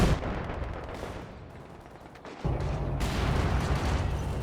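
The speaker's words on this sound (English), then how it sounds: "And now a B4 coming down." Distant artillery fire from a B4 howitzer shelling in the video game Company of Heroes 2, with muffled booms and a rumbling low impact partway through, which then continues as a steady battle roar.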